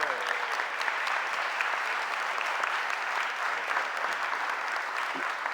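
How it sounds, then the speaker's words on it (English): Audience applause fills a city council chamber, a sustained, even clapping from a crowd honoring a group of young people, lasting several seconds at moderate loudness. "So let's give a round of applause to these young men and women."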